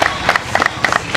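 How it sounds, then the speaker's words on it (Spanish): A small outdoor crowd claps at a first-stone laying ceremony for a water and sanitation project in Comayagua, brief uneven bursts of hand claps close by with some background murmur. "Un aplauso. Felicitaciones."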